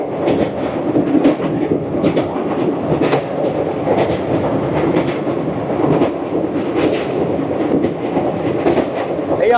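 The Paharia Express rolls across the Haldi river bridge with a steady, loud rumble and rhythmic clattering of wheels over the rails, heard from on board, with no talk.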